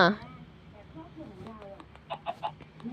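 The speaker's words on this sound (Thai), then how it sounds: "ไก่" A chicken in a Minecraft animation gives a quick run of three or four short clucks near the end, after a brief voice-like burst at the start, over a quiet background.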